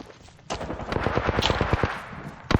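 Rapid automatic gunfire in a shooter video game, a quick string of sharp shots in a steady rhythm that bursts in and ends with a final crack.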